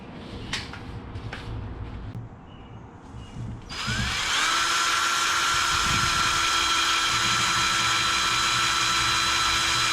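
A power drill bores out Raptor 250 front suspension parts, starting with a few faint clicks and brief spin-ups before winding up to a loud, steady high-pitched whine that holds close and continuous to the end.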